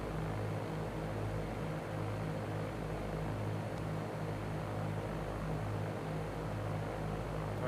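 Steady, droning propeller engine of a Cessna in the X-Plane 11 flight simulator, with a constant hum and a faint rhythmic beat running evenly throughout and no talking.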